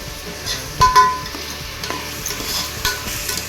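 Biryani masala with yogurt being sautéed in a pan for mutton biryani, a soft steady sizzle under clinking stirring strokes of a spoon against the pan, no talk.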